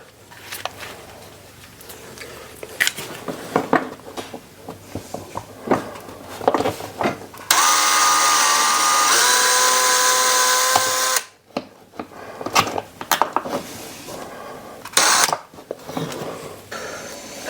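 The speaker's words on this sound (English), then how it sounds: "we'll drill that hole out nice and slow" A power drill bores a hole into a wall for a curtain rod, a steady whining run of about four seconds at moderate loudness, set among scattered handling clicks and taps before and after.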